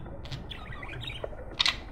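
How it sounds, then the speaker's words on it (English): Pet budgies chirp in short, bright bursts close by before a bath, a few quick tweets scattered over quiet room noise with a louder call near the end. "Many budgies show excitement at the sight of water,"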